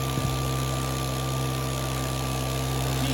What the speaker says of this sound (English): Same Makita motor, 4-stroke motor.